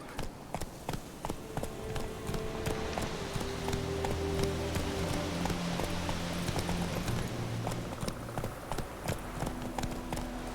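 Roach, Geralt's horse in The Witcher 3, gallops with steady rhythmic hoof clip-clops, close and continuous over a game music bed, easing slightly toward the end.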